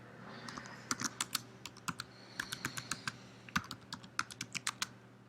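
A computer keyboard clicks in quick, uneven runs of close keystrokes, light and fairly quiet over a faint steady hum.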